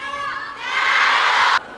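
Spectators at a China Smash table tennis match between Sun Yingsha and Wang Xiaotong break into a short burst of high-pitched cheering that swells and cuts off abruptly, heard over commentary.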